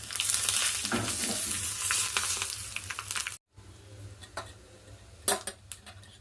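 Chilies and curry leaves crackle and sizzle in hot tempering oil for a rasam, a steady frying hiss with small pops and a brief pause before the spatter resumes with a few sharper bursts.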